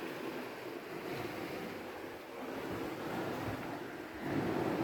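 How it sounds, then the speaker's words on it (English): Water surges through the gate openings of a canal lock on the Rideau waterway, a continuous broadband turbulent roar heard close and steady with wind noise on the microphone, and no voices. "allows the water to flow in from upstream. Makes a lot of turbulence."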